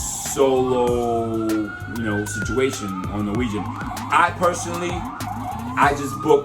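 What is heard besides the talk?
emergency vehicle sirens in city street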